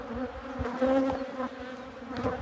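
Honey bees buzz steadily at a hive, a close, continuous drone with small shifts in pitch and a few louder passes as individual bees fly near.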